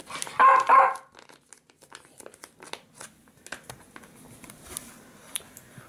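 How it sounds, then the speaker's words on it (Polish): A dog barks a couple of sharp, close, loud times at the start, then crinkling and rustling handling noises follow with a few small clicks. "ona, widzicie, już nawet szczeka na mnie, żebym się pospieszyła"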